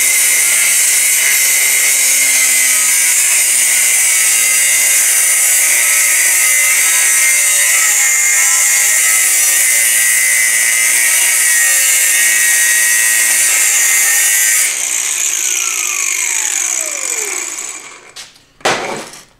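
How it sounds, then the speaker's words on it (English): A cutoff wheel grinds a groove into a metal rear axle housing on a turbo S10 truck build, a loud, steady high-pitched whine lasting about fifteen seconds before spinning down with a falling pitch and a final clunk. "You grind a little groove in it where it's nearly all the way through."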